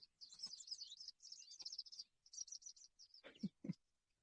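Small birds twitter from nests close by, in rapid high chirping bursts repeated in short phrases with brief pauses, faint and fairly near, followed by a couple of low thumps near the end.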